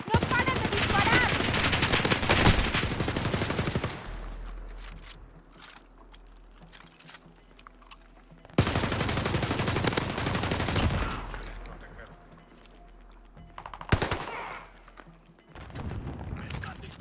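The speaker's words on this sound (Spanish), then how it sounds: "¡No paran de disparar!" Bursts of automatic gunfire in Call of Duty: Modern Warfare, loud rapid volleys from 0 to 4 s and 8.5 to 11 s, with sharper isolated shots and quieter mechanical clatter between them.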